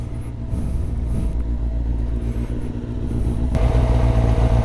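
A Kawasaki ZZR600 motorcycle engine runs nearby with a steady low rumble, its pitch and loudness rising toward the end as it revs up.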